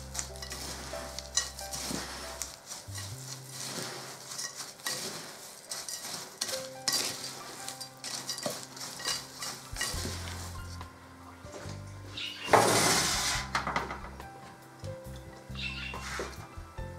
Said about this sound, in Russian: И перемешиваю.